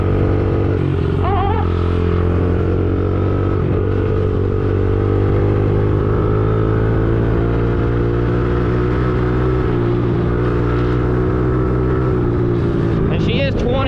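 A small 2003 50cc three-gear dirt bike engine runs steadily and loudly up close, a continuous buzzing drone with slight pitch shifts, while a person talks over it.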